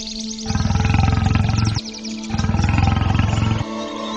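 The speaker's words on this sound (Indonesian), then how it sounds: "Aku yakin itu singa atau harimau pemangsa manusia." A lion or tiger roars twice, each a long, loud, deep roar with a ringing echo, separated by a short pause. No voices are heard.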